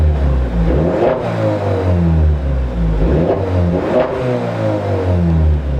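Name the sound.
car accelerating away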